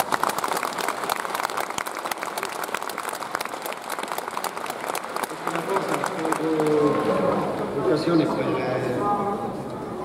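Stadium crowd applauding the players at a Sagan Tosu home-season-finale football ceremony, steady dense clapping with a rising murmur of voices and cheers later, under a speaker's amplified talk.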